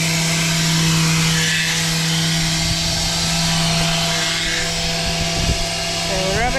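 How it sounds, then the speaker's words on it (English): A steady, loud mechanical whine of a power sander sanding paint on a sailboat window runs continuously, with a low hum underneath and faint voices. "sanding the last bit of the paint so that it is ready to put the top coat on"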